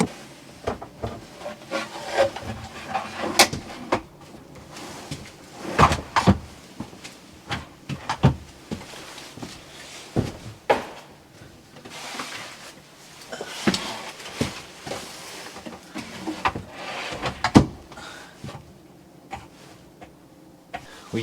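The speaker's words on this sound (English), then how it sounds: "I've had to take this drawer out like 5 times already." Wooden drawers in a camper van being pulled out and slid back in, giving repeated scraping, rubbing and knocking sounds at close range, with irregular bursts and short pauses and no talking.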